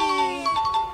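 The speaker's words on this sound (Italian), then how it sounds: "Cos'è questo suono? È il suono della vittoria." A bright electronic victory chime rings out in a short series of clear, bell-like tones stacked in harmonies, layered in quick succession and close up.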